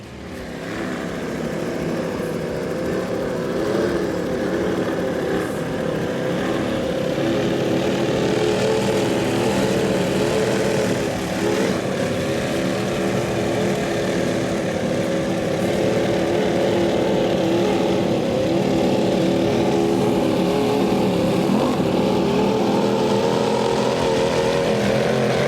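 A completely refit 40-foot Skater powerboat with Mercury Racing 1100 engines runs at a Key West poker run, a loud, continuous, deep engine roar with a rising whine that holds steady throughout, with no voices.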